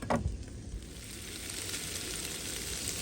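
Potatoes, four strips of bacon and onion frying in a pan at a hunting camp, giving a steady, dense sizzle that runs the whole time after a brief clatter at the start, with no talking.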